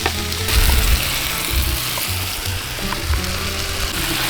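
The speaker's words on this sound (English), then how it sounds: "Chorizo is going in." Chorizo frying in a pan on a camp stove gives a loud, continuous sizzle and crackle. Low bumps and thumps of pan handling come through underneath.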